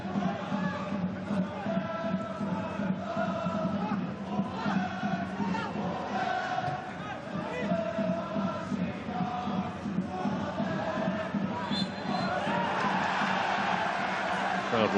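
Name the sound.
football crowd reacting to referee's decision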